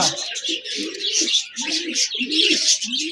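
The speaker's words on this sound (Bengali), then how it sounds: "এখানে আছে পায়রা" Pigeons in a bird shop coo in repeated low, throaty phrases, close and clear, while smaller birds chirp brightly and continuously in the background.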